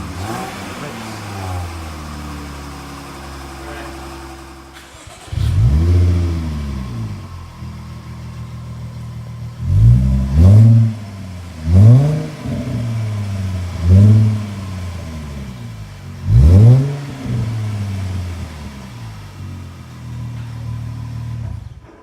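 Car fitted with a new Mina Gallery exhaust, idling with a deep burble and then revved repeatedly in several sharp, loud blips that rise and fall in pitch, close to the tailpipe.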